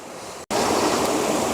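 River water pours steadily down a waterfall into a bathing pool, a loud, continuous close rush broken only by a brief cut near the start.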